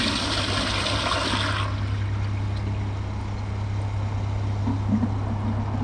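A Kohler Highline Pressure Lite toilet with a 503 Flush Mate pressure-assist unit flushes 1.6 gallons in a loud, forceful burst of rushing water that cuts off after about a second and a half, leaving a steady hum and gurgling refill.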